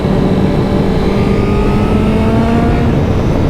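Honda CBR1000RR-R Fireblade SP sport motorcycle accelerating hard under the rider, a loud, steady engine roar with a rising tone held throughout, with no talk over it.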